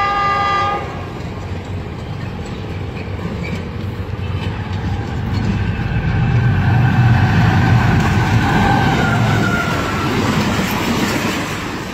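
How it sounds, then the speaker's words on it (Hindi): Jinnah Express passenger train racing through Mian Channu railway station at speed, a loud sustained roar of wheels and carriages with a blaring horn note at the start, filling the whole stretch without speech. "जब जिना एक्सप्रेस तेजगाम को ओवरटेक करने के लिए रफ्तार से आ रही थी"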